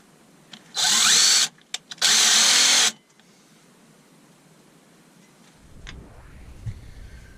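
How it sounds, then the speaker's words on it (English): Two loud bursts of a power drill boring through the centre of a woodturning blank, each about a second long with a short pause between, then near silence. "I'm going to drill me a hole right the way through the centre of this."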